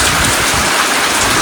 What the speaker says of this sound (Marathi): आता बघा पाऊस बघा पडायला लागलाय